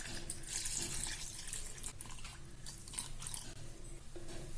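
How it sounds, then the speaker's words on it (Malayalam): Melted chocolate mixture pours into an eggless chocolate cake batter with a faint, continuous wet slurping and trickling, close and soft, with no talking. "നമുക്കിത് ഈ ബാറ്ററിലേക്ക് ഒഴിച്ചു കൊടുക്കാം"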